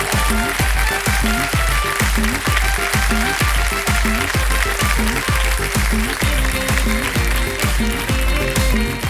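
Steady, dense applause from a large TV quiz show studio audience at Kaun Banega Crorepati fills the whole stretch, loud and continuous with a rhythmic pulse running underneath.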